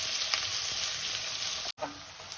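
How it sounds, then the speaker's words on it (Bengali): Onions fried and stirred in a pan until brown, a loud continuous sizzle with a brief gap near the end, a soft scrape of stirring rising just after. "এবারে এই পেঁয়াজগুলোকে একটু ব্রাউনিশ কালার না আসা পর্যন্ত একটু নেড়ে নিতে হবে।"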